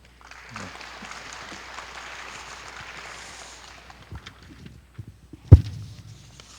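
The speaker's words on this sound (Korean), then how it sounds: "다시 한번 박수 부탁드립니다" Audience applause at a 2020 maritime and fisheries outlook conference swells into steady clapping for a few seconds, then tapers off into scattered claps and a sharp thump.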